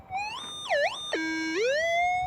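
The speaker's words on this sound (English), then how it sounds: "now I've got another signal down here. So it's a pretty loud signal" A metal detector searching for gold in Westland gives a loud warbling electronic tone that sweeps up and down in pitch, drops low, then climbs and levels off, heard alone.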